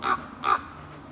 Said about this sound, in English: that's a raven.